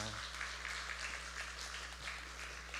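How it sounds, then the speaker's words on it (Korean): A church congregation at a Wednesday worship service applauds, a soft, steady patter of many hands under a low constant hum, faint and somewhat distant throughout. "우리가 너무 자리 주님께 영광의 박수를 드립니다."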